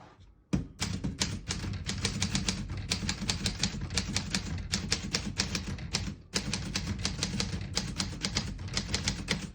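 Rapid, crisp mechanical keystrikes from a 1948 Corona Sterling portable typewriter clatter in steady bursts, close and loud, with one short pause partway through.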